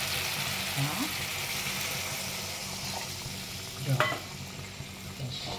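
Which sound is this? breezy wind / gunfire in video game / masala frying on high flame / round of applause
masala frying on high flame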